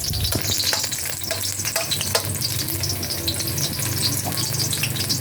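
Chopped tomatoes frying in a pan with garlic and onion, giving a loud, steady sizzle and crackle throughout with occasional stirring scrapes.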